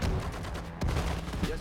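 Infantry gunfire in the World War II strategy game Sudden Strike 4, a dense spray of rapid shots running throughout, with a sharper burst near the middle and a low battle rumble underneath.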